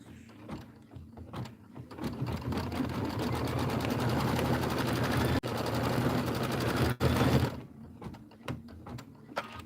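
A sewing machine runs a satin stitch on a Christmas gingerbread appliqué wall quilt, a loud, steady rapid whirring hum lasting several seconds, broken by a couple of sharp clicks and stopping before the end, with small taps after.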